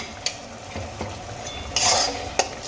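Spoon scraping and stirring through a sizzling spice masala as tamarind pulp is mixed in, with a couple of sharp metal clinks against the pan and a brief louder hiss; close and alone.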